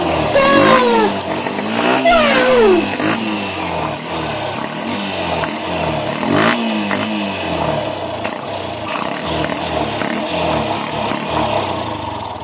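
A Yamaha YTX 125 motorcycle engine fires up and revs repeatedly, loud and close, with rising and falling pitch sweeps.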